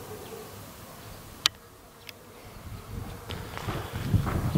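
Faint bee buzzing drifts over a quiet outdoor background near flowering willow on a cool day, with a couple of sharp clicks and rising wind noise toward the end.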